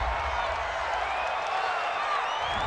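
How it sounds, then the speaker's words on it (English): A home stadium crowd at an NFL game between the San Francisco 49ers and Arizona Cardinals roars steadily after a penalty call, a dense, continuous wash of cheering and whoops with no pauses. "This home crowd, they're happy with that call."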